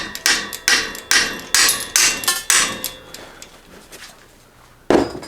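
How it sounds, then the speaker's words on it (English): A hammer raps a wrench on a 1987 Mongoose ATB vintage mountain bike. About nine sharp metallic blows land in a quick, even series, with a pause before one last louder strike, all close and clear. "give her a couple of raps with a hammer"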